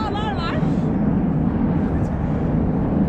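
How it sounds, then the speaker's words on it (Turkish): Helicopter flying overhead in DUMBO, New York, a steady loud broadband rumble filling the scene with a brief voice at the start. "Helikopter çok uçuyor burada ya"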